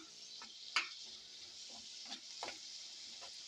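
Green tomatoes cooking in a pan on the stove, nearly softened, give off a soft, steady sizzle broken by a few sharp pops and crackles.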